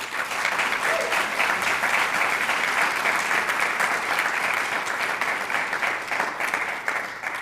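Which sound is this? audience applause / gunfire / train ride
audience applause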